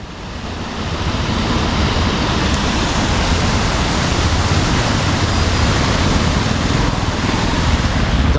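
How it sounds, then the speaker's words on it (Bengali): Water rushing across a mountain road at a water crossing on the route from Dantu village toward Pithoragarh and Dharchula, a loud, steady, close roar that swells in during the first second and holds unbroken throughout. "রাস্তার উপরে এতখানি করে জল যাচ্ছে"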